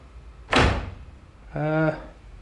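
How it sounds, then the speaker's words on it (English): A Corvette C4 car door closes once with a loud broadband thud, followed about a second later by a sustained buzzing tone, likely a power window motor, in a quiet garage. "Let me try closing the door."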